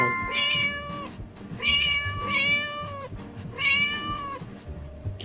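Three drawn-out cat meows, each about a second long, repeat with short pauses between them over a low background rumble.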